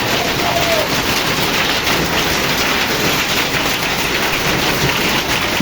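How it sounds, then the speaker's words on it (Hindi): Very heavy rain with hail pours down steadily in Gujranwala, a dense, loud, continuous hiss and patter across the whole stretch with no clear breaks. "बहुत तेज बारिश"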